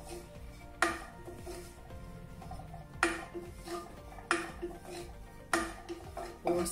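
Oats being dry-roasted on low heat in a pan for payasam, with gentle scraping stirring and four distinct metallic clanks of the spoon hitting the pan at irregular intervals, close up without talking.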